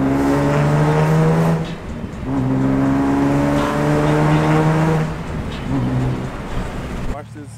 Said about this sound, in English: Now let's go shoot some motherfucking flames.